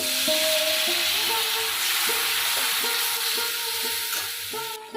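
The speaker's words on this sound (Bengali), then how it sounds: "সব উপকরণগুলো দেওয়ার পর ভালো করে আমি কষে নেব মশলাটাকে সামান্য জল দিলাম" A spice paste of chilli, coriander, cumin and bay leaf powders is stir-fried with a splash of water for a jackfruit-seed vegetable chachori, giving a continuous close sizzle with repeated spatula scrapes and no talk.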